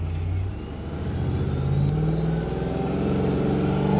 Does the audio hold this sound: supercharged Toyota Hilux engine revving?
yes